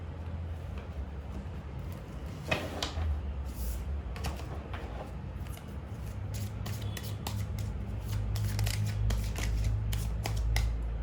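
Tarot cards shuffled for a relationship reading, close papery riffles and slides in scattered bursts that grow busier toward the end, over a low background hum.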